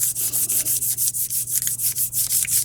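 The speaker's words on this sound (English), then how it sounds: "I'm going to go ahead and burnish it first" A mica powder textured pendant is burnished with quick, rhythmic back-and-forth rubbing strokes, about a dozen close, even scratchy swipes in steady succession with no talking.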